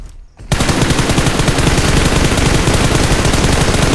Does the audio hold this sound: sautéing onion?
no